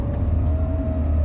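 Rover 45 Impression S3 with a CVT gearbox, its engine droning steadily at a held pitch as the transmission flares slightly, a continuous close-up cabin whir with no voices.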